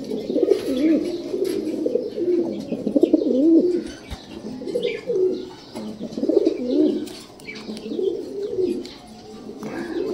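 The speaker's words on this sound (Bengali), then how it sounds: "এখন দেখতে পাচ্ছেন এক পেয়ার মাক্সি রেসার কবুতর" A pair of maxi racer pigeons coo in repeated low, throaty rolling phrases that rise and fall in waves, close and fairly loud, with occasional faint chirps and rustles in the background.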